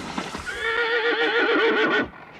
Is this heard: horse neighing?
yes